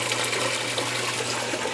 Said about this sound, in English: I'm filling it back up. Clean water.